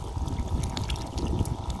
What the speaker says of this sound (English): So I want to dump the chlorine there so that water distributes the chlorine.